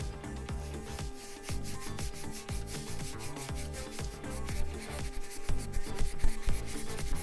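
A Scotch-Brite pad scrubs a lathe handle in steady back-and-forth rubbing strokes, close and fairly even in loudness, with no talking.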